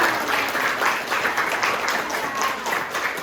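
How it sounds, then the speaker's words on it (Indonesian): A classroom audience applauds steadily, a dense wash of clapping held at an even level from start to finish with no clear voices on top. "Tepuk tangan."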